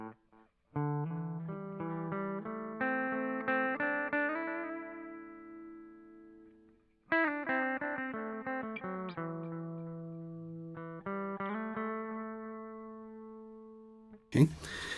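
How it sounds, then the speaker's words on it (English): Electric guitar played through a Donner Yellow Fall 2 pedal on its vintage tape delay setting, single notes and chords ringing with repeating, slightly warbly echoes that trail off between phrases, closing on a short burst of noise. "the vintage delay, which is that kind of tape delay sound"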